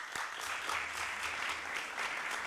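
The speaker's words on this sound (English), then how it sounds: "let's give him a round of applause" A roomful of people claps for the new vice chairman of the House Rules Committee at a legislative gathering, a soft, fairly distant, steady patter of many hands throughout.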